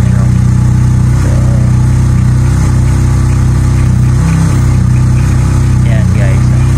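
An engine idling at around 800 to 900 RPM, a loud, steady, low rumble held throughout, close to the microphone, with someone talking over it.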